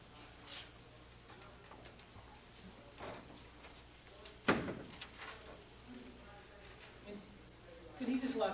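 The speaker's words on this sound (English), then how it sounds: "Did he just lock that door?" Door lock clicking shut in a quiet room in Twelve Angry Men, faint ticks and rattles followed by a sharp metallic clack, with low muffled voices and shuffling around it.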